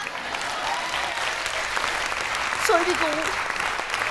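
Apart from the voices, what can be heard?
audience applause for Max at a science slam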